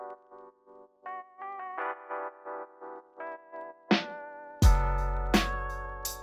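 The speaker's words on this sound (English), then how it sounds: "I also added an automation clip at the bottom with the love filter with the shaky effect you can get out of there" A lofi beat built in FL Studio plays chopped melodic keys with a wobbly, shaky filter automation effect, then heavier hits enter with a booming low end and bright sustained tones.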